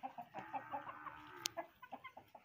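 Aseel roosters in a backyard fowl setup cluck softly in a steady, rhythmic run of short notes, with one sharp squawk partway through. The whole sound is faint and distant.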